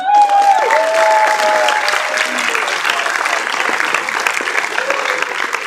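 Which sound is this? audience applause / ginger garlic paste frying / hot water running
audience applause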